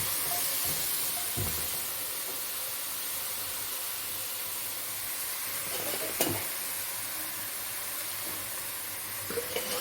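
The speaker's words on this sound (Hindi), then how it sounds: "मखाने में ये थोड़े से घी में फ्राई करूँगी।" Makhana (fox nuts) frying in a little ghee in a pan, a soft steady sizzle and hiss with occasional stirring scrapes and clinks, fairly quiet and continuous with no talking.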